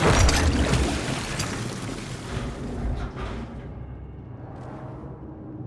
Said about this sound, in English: Alright, so that fills up some water.